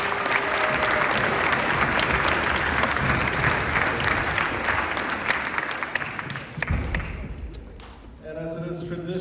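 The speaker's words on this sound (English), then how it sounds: "Let's give them another round of applause." Audience applause for graduating seniors at a Salem-Keizer graduation ceremony for Marshallese and Chuukese students, a dense sustained clapping from a large crowd that fades out near the end as a voice begins.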